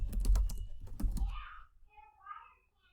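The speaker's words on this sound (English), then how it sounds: "On the left-hand side, I'm going to type the design tab." Keys clatter on a computer keyboard in quick bursts during the first second and a half, loud and close, then fade into quieter faint sounds.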